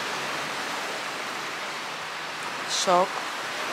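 Steady broadband wash of sea waves on a sunny village shore, continuous and even throughout, with a brief spoken exclamation near the end.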